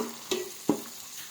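A bay leaf dropped into hot oil while making bagara rice gives a faint, steady sizzle, with two short soft knocks close by and no talking.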